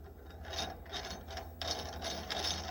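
A wrench ratchets as it tightens the blade arbor nut on a saw while cutting wood flooring strips to width, giving a close series of short clicking bursts that repeat several times without any talking.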